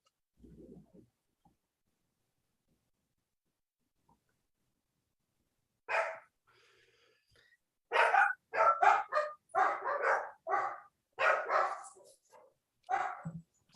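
A dog barks in a quick burst of loud, close yaps with short gaps, after a faint sound at the start and a quiet stretch, in an indoor setting during a camera club competition.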